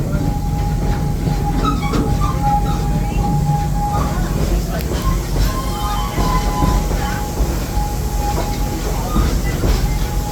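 The Serengeti Express safari train at Busch Gardens rolls along with a steady rumble, rhythmic clatter and faint wheel squeals. A guide narrates over the continuous railcar noise.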